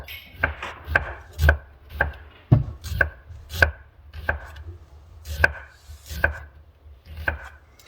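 A knife cuts cucumbers into thin slices for bread and butter pickles, landing on a board in a steady, evenly spaced series of crisp, close chopping knocks.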